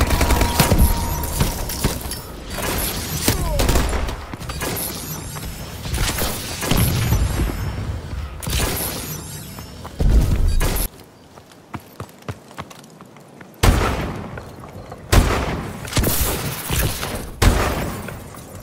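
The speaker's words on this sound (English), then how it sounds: "Friendly missile strikes inbound" Missile strike explosions in a military shooter video game, a dense barrage of loud booms and crackling blasts rolling continuously, then a brief quieter lull before more heavy impacts resume.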